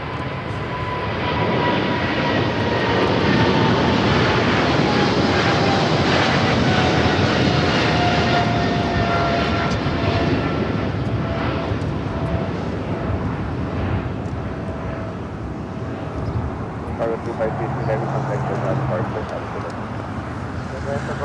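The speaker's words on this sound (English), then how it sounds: "we got that China Southern 777 freighter rolling down to 25 left" A China Southern Boeing 777 freighter rolls for takeoff on runway 25 left at LAX, its jet engines a loud sustained roar heard from a distance that slowly fades, with a voice talking over it.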